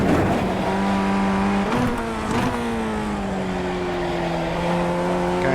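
Race car engine in the iRacing simulator, revving loudly with distinct gear shifts and throttle blips as the pitch drops and climbs, a continuous close engine drone with a brief tire squeal.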